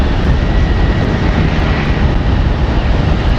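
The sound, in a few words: motorcycle engine with a noise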